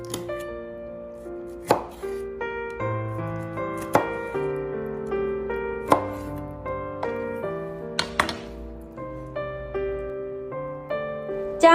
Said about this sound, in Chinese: 在鱼的另一侧同样也打上一次花刀